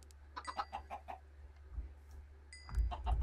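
Chickens in the video game Minecraft cluck softly in a quick run of short calls, then again near the end over a low rumble, all fairly faint with no talking.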